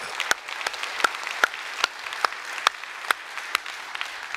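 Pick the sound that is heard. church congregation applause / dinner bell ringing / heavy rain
church congregation applause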